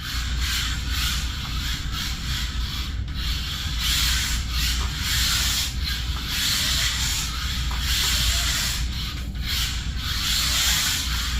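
A 1:43 scale Enoze RC drift car runs on a smooth surface, giving a continuous close rasping, hissing whir with slight rises and dips in level, alone without speech.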